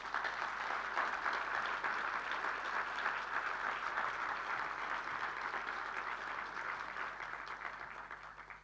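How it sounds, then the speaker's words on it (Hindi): An audience at a talk in Dhar, India gives sustained, dense applause, a steady wash of many hands clapping that carries on without a break and fades slightly toward the end. "जोर से ताली बजाइए।"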